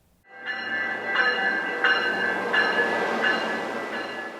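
A light rail commuter train running through Arvada toward Wheat Ridge gives a steady rolling rumble with rhythmic wheel clacks at regular intervals and a faint tonal whine on top. It sounds fairly close and there is no talk.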